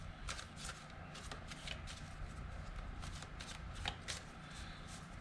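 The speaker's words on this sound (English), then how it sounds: "So I'll pull a few cards just to kind of tell us a story." Tarot cards shuffled by hand give a steady, soft riffling and flicking close by. Quick rhythmic card slaps repeat throughout at low volume, with no talk.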